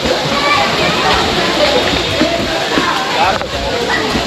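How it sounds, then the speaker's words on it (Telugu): Bhairava Kona waterfall in Andhra Pradesh rushes and splashes over rocks in a loud, continuous roar heard close up, with faint crowd babble mixed into the steady wash. "వాటర్ ఫాల్ సైడ్ వ్యూ చూడండి ఎట్లా ఉందో."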